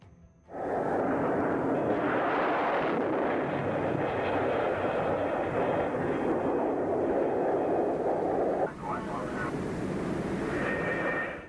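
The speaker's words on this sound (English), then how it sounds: "the Phantom is hurled down the catapult run and over the bow of the carrier" An F-4 Phantom jet is launched by catapult off an aircraft carrier's bow at 185 mph, a loud, sustained roaring jet blast with a rushing whoosh and a brief dip near the end.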